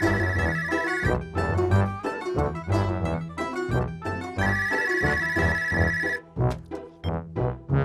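A telephone rings in a Turkish sitcom scene, its repeated bell bursts standing out over a busy, music-like backdrop at moderate loudness.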